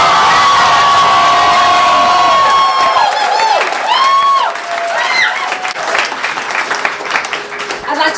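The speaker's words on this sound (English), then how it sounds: "of applause for Adam Bandt, leader of the Australian Greens." A crowd at an election night event for the Australian Greens applauds and cheers loudly, with whoops and shouts over dense clapping that gradually thins out toward the end.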